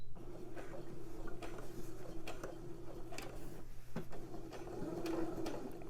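Sewing machine back stitching a gusset seam, giving a quiet, steady mechanical hum with soft rhythmic ticking and clatter throughout, fairly faint and heard without talking.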